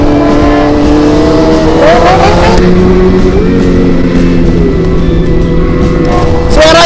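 A loud Kawasaki ZX-25R motorcycle engine revs and drones up close, pitch rising and falling as the throttle is worked, with a roaring background.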